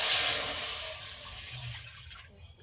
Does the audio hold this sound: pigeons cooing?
no